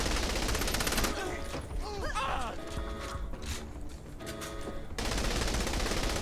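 Rapid, dense bursts of automatic gunfire from the Saints Row The Third video game, loud and nearly continuous, with clattering mechanical game effects layered in.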